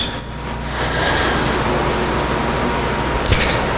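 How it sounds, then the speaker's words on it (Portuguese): An electric fan runs indoors with a steady, close broadband whoosh and a low hum, and a brief knock comes near the end. "o ventilador está ligado aqui para mim, não sei se vocês estão ouvindo"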